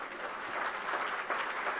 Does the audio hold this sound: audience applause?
yes